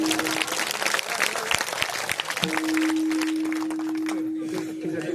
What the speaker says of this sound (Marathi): टाळी वाजवा टाळी